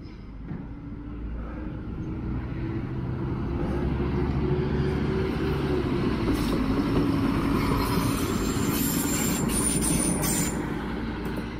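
A train on the old Lyngby-Vedbæk steam railway running along Mølleådalen rolls past close by, its steady rumble growing louder with a drawn-out wheel squeal and faint clickety-clack, heard alone without talk.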